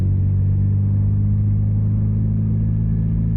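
A Mazda MX-5 on TEIN coilovers set to their softest rolls along at about 20 mph, giving a steady low engine drone and road rumble heard from inside the cabin, even and unbroken, with no talk.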